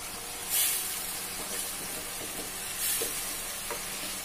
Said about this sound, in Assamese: অলপ দেৰি মই লৰাম এইখিনি ভালদৰে।